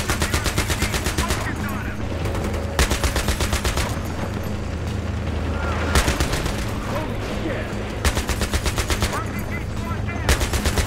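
Repeated bursts of automatic gunfire in the Battlefield video game, rattling volleys spread over a busy battle backdrop, loud and close, with players talking at times.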